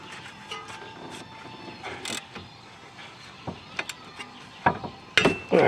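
A 3/4 inch socket works a tie rod end nut loose on a 2002-2011 Chevy Aveo during front wheel bearing replacement, with scattered close metallic clicks and clanks growing louder and sharper toward the end.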